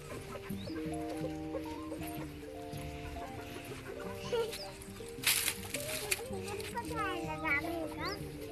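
Farm chickens clucking in a village yard, a steady mix of fowl calls under children's voices and other background chatter, with a couple of louder bursts midway and birdsong-like chirps near the end.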